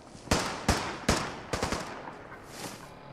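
Gunfire in Fallout 4: a string of sharp, loud shots, about five bursts in three seconds with a tight double crack near the middle, then quieter distant pops that fade out.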